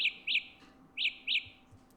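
Four bright, high-pitched electronic chirps in two quick pairs from Samsung Galaxy Buds Live earbuds in locator mode, fairly loud and close, with a quiet gap between the pairs.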